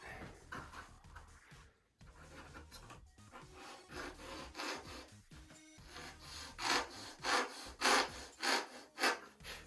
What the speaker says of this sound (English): I think I'm going to sand a slight bevel on the tip to accept it.